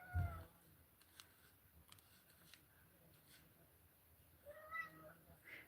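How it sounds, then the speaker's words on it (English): A house cat gives a soft meow at the start and a couple of faint, wavering mews near the end, heard from close by in a quiet room with slight rustling in between. "My kitty cat's here."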